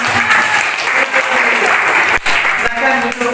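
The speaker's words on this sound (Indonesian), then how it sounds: "Baik, berikan tepuk tangan dulu." Children applauding together in a classroom, a loud continuous burst of clapping with a brief dip partway through before resuming.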